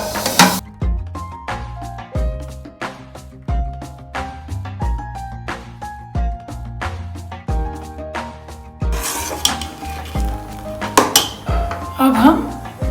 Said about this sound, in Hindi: सेविंग मिक्स करेंगे।